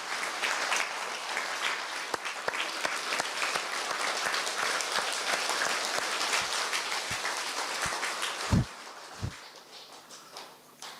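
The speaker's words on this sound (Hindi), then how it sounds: "थोड़ा तालियां बजाएंगे थोड़े से।" A group of people clapping together, a dense burst of applause that thins into scattered individual claps and fades toward the end, heard in an indoor gathering room.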